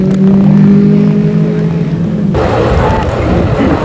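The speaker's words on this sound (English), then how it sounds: "you can hear a little bit of the roaring of the racing cars" Racing cars at the Watkins Glen racetrack, heard as a loud engine drone with a steady tone that gives way to a rougher, broadband rumble partway through.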